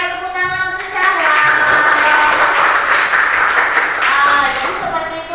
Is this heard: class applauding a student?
yes